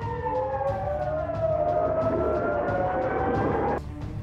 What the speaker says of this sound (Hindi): बताया गया कि हमले से कई इजरायली बस्तियों में सायरन बजने लगे।